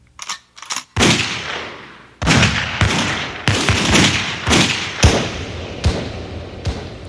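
Gunshots in a dramatized documentary scene of young men shooting settlers in 1860s Dakota: a few quick faint pops, then a run of loud, sharp reports spaced about a second apart, each ringing out with echo.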